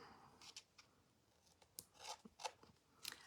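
Scissors trimming ribbon for a bow give a few faint, close snips and soft scraping slides spread irregularly across a quiet room, with no voices.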